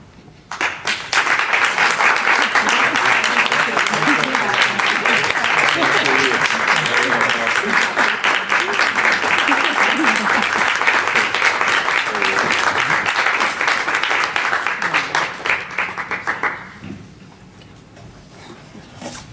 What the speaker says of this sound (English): then we're going to give everybody up here a big round of applause